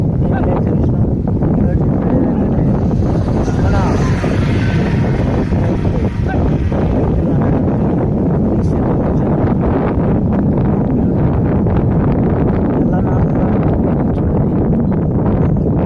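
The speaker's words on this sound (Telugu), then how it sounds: "అడవిలో చాలా గాలి వస్తుంది" Steady wind blowing and buffeting the microphone throughout, a constant low roar with faint rustling, no clear pauses.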